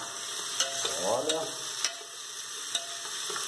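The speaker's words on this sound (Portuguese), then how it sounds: "Está fritando a cebolinha." Chopped onion sizzles in a pan while being stirred, a steady close crackle with utensil scrapes and light taps, and a voice briefly speaks.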